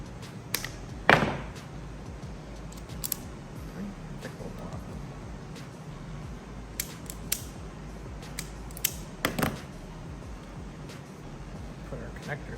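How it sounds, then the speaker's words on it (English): Wires on a Seadoo Speedster 150 jet boat being snipped with a cutting tool, a few sharp clicking cuts spaced apart over faint handling noise and rustling, close by. "So we'll cut this."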